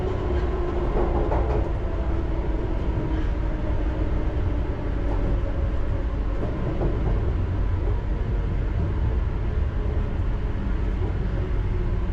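A London Underground Piccadilly line train runs downhill through a tunnel, a steady loud rumble with rhythmic rail clatter and wheel noise filling the whole stretch, no voices.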